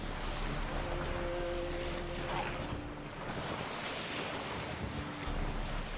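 A boat moving across lake water in The Witcher 3, steady washing waves and wind noise in a continuous, even roar with low tonal hums beneath.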